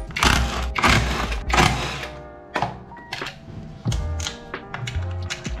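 An Allen wrench turns and pulls bolts from the CVT cover of a Honda ADV160 scooter, with sharp metallic taps, clicks and clunks of tool and loosened parts, close by in an otherwise quiet space.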